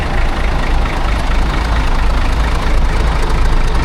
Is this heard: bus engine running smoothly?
yes